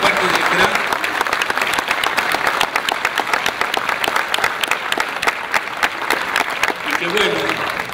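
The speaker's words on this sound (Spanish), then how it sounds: "se merecen un aplauso" Applause from a crowd at an Argentine barbecue grill-masters championship, many hands clapping in a thick, lively patter that carries on steadily, with some voices mixed in.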